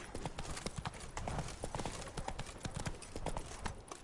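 Roach, Geralt's horse in The Witcher 3: Blood and Wine, trots steadily with quick, even clip-clopping hoofbeats on hard ground, fairly quiet and continuous throughout.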